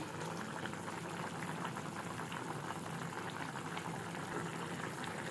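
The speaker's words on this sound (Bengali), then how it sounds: "আজকেও ইলিশ দিয়ে কলা রান্না করছি কাঁচা কলা" Green banana and hilsa fish curry cooking in a pot, a low steady bubbling simmer at a quiet level with no speech.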